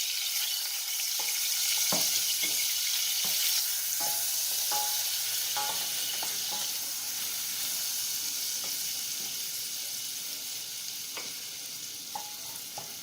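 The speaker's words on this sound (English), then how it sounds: "I'll just let this saute a little bit" Garlic sizzles steadily in melted butter in a pan, a continuous crackling fry with scattered soft clicks of stirring throughout, no voices.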